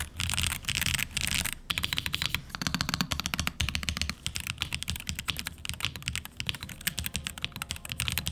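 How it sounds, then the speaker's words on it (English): Steady, rapid keystrokes on an Optimum Wooting 60HE mechanical gaming keyboard, a dense run of clacky clicks close up with a few brief pauses. "I also think it sounds fine pretty much straight out of the box"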